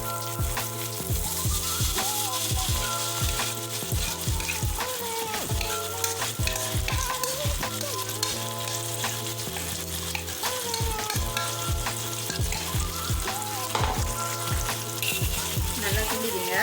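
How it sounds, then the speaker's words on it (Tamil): Chili paste sizzling and being stirred in a pan, a loud steady fry under rhythmic music-like tones and repeated spatula clinks throughout. "We are going to add in the chili paste."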